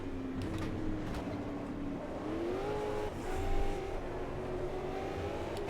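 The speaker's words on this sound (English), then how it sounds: "So I just killed the engine there, but I got it back going" Race car engine in Automobilista 2, stalled then restarted, revs up and down in rising and falling tones, steady and moderately loud with a brief louder surge midway, no talk.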